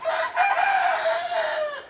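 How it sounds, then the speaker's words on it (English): A young rooster crows in a strained, wavering, breaking voice, one continuous call close by that sounds awkward and unfinished. "Rooster's trying to learn how to crow."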